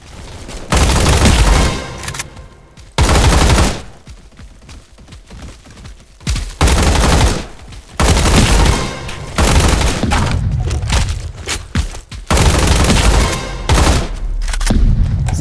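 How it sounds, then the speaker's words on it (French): Gunfire and bomb blasts in a Roblox combat arena game, loud bursts of rapid shooting and heavy booms in several long clusters separated by quieter stretches, close and harsh. "Ça balance des bombes."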